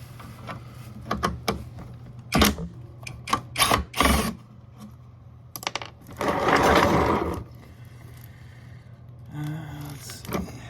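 Screws are worked out of a massive toroidal transformer with a power driver, short whirring bursts and clicks, one longer grinding run midway, close up with metallic taps between.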